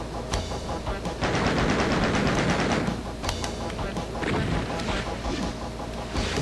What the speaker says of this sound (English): I blew up a zombie with a rocket.